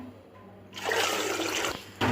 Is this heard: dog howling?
no